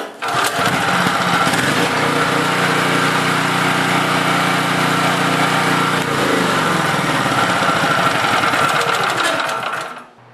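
Small portable generator engine restarting and running steadily, a loud, constant high-pitched buzzing drone close by that shifts pitch about midway and cuts off at the end.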